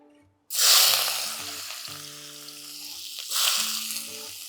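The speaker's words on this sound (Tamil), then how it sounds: "இப்போ இதே நெய்யில் வெங்காயம்" Onions hiss and sizzle loudly in hot ghee, the crackle swelling as they hit the pan, with soft background tones underneath.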